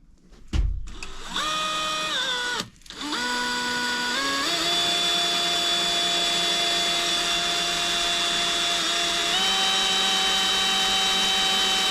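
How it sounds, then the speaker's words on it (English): A power drill drilling a hole in a plate during a 2017 Polaris General transmission repair revs up with a whining hum, pauses briefly, then runs steadily at a high, sustained pitch with small shifts in speed. "I'm gonna go ahead and drill this hole kind of where I think it needs to go"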